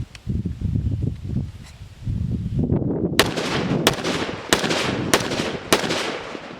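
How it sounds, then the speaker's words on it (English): A Ruger SFAR .308 AR-style rifle fitted with a muzzle brake fires five loud, sharp shots at an even pace outdoors, each with a booming tail, after a stretch of rustling and handling noise. "you know you're shooting 308, I mean, there's no doubt"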